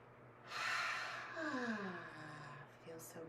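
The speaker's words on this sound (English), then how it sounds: "And one more breath." A deep breath during a gentle yoga session: a loud, airy inhale followed by a long exhale that turns into a soft voiced sigh, close to the mic.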